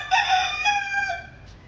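A single rooster crows close by, one short, loud, harmonic cock-a-doodle-doo call that rises and trails off within about a second.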